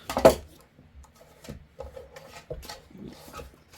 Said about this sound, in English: I'm gonna get my little trimmer again.